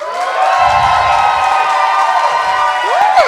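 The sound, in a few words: comedy club audience cheering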